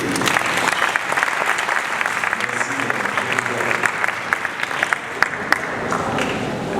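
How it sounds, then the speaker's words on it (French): An audience at a hypnosis show in Abidjan breaks into steady, full applause, a dense crackle of clapping hands that carries on for several seconds with a few sharper claps standing out near the end. "On peut l'applaudir."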